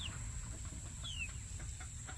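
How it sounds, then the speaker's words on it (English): Farm chickens, big hens still settling their pecking order in a new run, let out soft scattered clucks and chirps, faint beneath a steady low background rumble and hum. "these chickens, they are not skittish like our others are"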